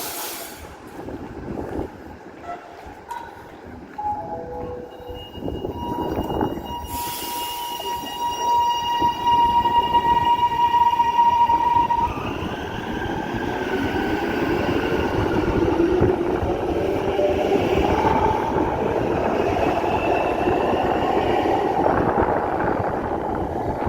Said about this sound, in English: Is that a V-Line train too?